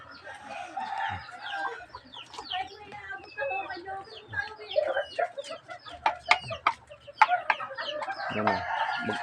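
Chickens and chicks cluck and peep busily while being fed, with a rooster-like call and a voice talking in the background.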